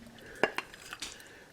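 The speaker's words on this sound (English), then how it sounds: "Let's dish up some stew" Oven-baked stew being served, with a few quick clinks and scrapes of a utensil against a pot or dish, close but faint, against a quiet background.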